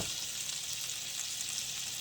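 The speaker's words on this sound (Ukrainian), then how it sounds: "слівки вже закипають" A soft, steady bubbling hiss of cream coming to a boil in a pan, close and quiet, with no voices.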